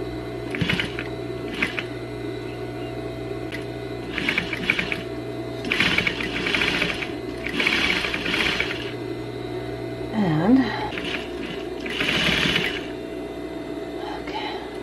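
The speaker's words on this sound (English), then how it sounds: "And now I'm just sewing the arms." A sewing machine stitches the arms of a cuddly bear made from baby pajamas, running in short repeated bursts of rapid mechanical whirring with brief pauses between, close and moderately quiet.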